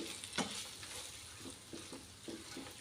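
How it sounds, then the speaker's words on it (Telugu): Curry leaves frying and being stirred in a pan with ivy gourd stir-fry, a soft continuous sizzle broken by several light scraping stirs. "ఇప్పుడు ఈ కరివేపాకు అంతా కూడా ఇలా ఫ్రై అయ్యేలాగా చక్కగా కలుపుకుందామండి"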